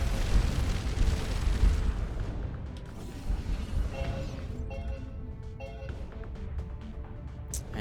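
A Sentinel frigate being fired on and exploding in Starcom Nexus space combat: a heavy booming rumble that gradually fades into scattered crackling debris and small pops.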